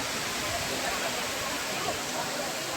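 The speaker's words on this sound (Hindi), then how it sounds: "लगता है बस पहुंच ही गए हैं दूध सागर वाटरफॉल्स, मीन्स दूध का सागर" Dudhsagar Waterfalls in Goa pour with a dense, unbroken roar of falling water that fills the whole moment at a steady, loud level.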